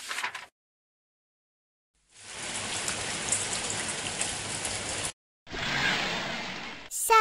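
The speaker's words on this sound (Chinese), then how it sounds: "下雨。" Steady rain falls in two separate bursts of a few seconds each, a dense, hissing patter on surfaces broken by stretches of near silence, with no voices.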